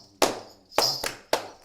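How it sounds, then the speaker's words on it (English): Three sharp hand claps in a tambourine rhythm exercise, evenly spaced and close, with no talk. "2 claps on the right foot."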